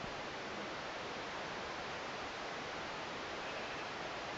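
Steady rain pours outside during a Florida thunderstorm, a dense, even hiss that holds unbroken throughout with no distinct thunderclaps and no talking.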